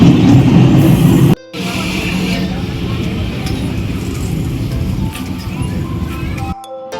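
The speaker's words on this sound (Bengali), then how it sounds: "আর ট্রেন এখনই একটা ছেড়ে চলে গেল," Rumbling railway noise at Naihati station, a train having just pulled out, with a steady low roar of rolling wagons and platform bustle filling most of the stretch, briefly cut off near the start and again near the end.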